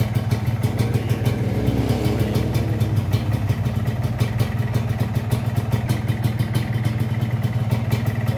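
A Yamaha RXZ motorcycle engine runs loud and close with a dense, rapid two-stroke clatter, holding a steady high-revving buzz throughout with no voices over it.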